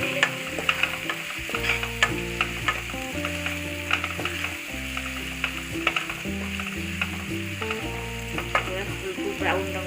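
Chopped onions and green onions stirred while frying in a pan for a Gujarati potato gravy dish, a constant sizzle with repeated clicks of the spoon, while a steady tonal background of music plays underneath.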